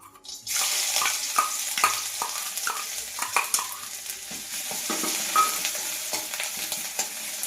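Potato and ginger-garlic paste dropped into hot oil in a wok burst into a loud sizzle after a quiet start, followed by irregular spattering, crackles and stirring scrapes that keep going to the end.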